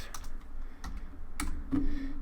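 Fingers type on a computer keyboard in short, irregular bursts of clicks and key taps, close and fairly quiet, with no talking.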